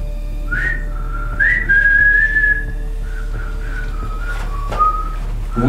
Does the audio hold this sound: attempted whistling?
yes